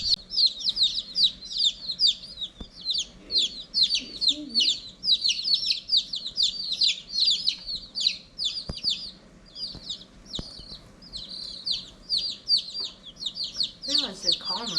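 Eighteen baby chicks peeping rapidly and continuously in a box, high-pitched chirps overlapping close by, with a few soft bumps in the background.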